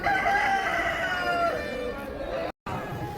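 A rasangi rooster at the Machilipatnam chicken market crows once, a long, loud, wavering call close by, with market noise beneath and a short gap near the end.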